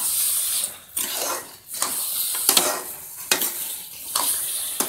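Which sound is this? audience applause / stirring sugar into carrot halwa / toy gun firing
stirring sugar into carrot halwa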